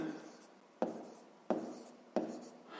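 A pen scratches on paper while a fifth-grade math exercise is worked out, with soft continuous scribbling broken by three sharp, evenly spaced taps of the pen against the page.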